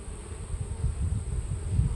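Honey bees buzz in a dense, continuous low drone as a hive's brood nest is opened during an inspection, many insects humming close together with a faint steady high whine over the swarm.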